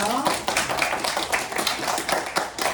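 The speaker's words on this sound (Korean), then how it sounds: "유나에게 박수 한번 주세요." Applause for a child who has just finished a hard kalimba piece at a children's recital, a small audience clapping steadily and fairly loud for nearly three seconds.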